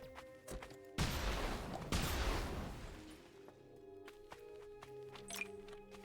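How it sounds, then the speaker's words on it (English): Gunfire aimed at a base in the sci-fi strategy game Hostile Mars, a loud burst of rapid shots and impacts that fades into quieter ticking and ambient game tones. "We got one guy over here firing on our base."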